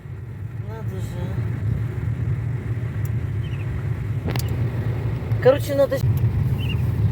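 Steady low road rumble from a car interior while driving to the Lozhok holy spring, with someone talking over the continuous engine and tyre noise.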